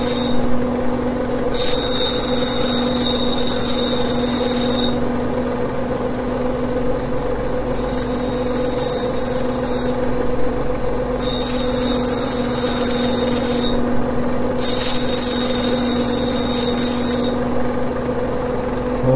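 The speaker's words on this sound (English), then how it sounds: "now I'm going to grind away some of the angles of the bottom that I know we won't use" An Australian sapphire being ground during gemstone preforming on a lapidary wheel: a steady, loud mechanical whine with high-pitched grinding bursts that come and go every few seconds, continuous throughout with no voices.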